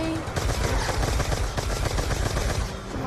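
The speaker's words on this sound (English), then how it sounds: "As you can see here, I am now using my RPG" Explosive weapon fire from an RPG in Call of Duty Zombies on the Buried map, a loud dense barrage of blasts and rapid shots that keeps up continuously for the whole stretch.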